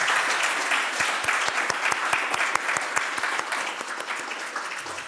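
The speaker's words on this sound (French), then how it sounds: "on peut aussi remercier chaleureusement l'intervention de Madame Pimentel en l'applaudissant bien fort" A lecture audience applauds the speaker warmly, a full, lively clapping with distinct individual claps rising out of the crowd, sustained and even for several seconds.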